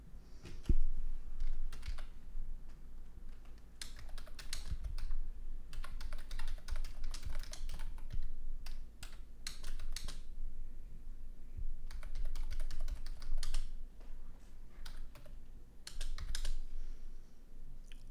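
Steady bursts of typing on a computer keyboard, clattering keystrokes in clusters with brief pauses between them, close and moderately loud, during tabletop game prep work, with no talking.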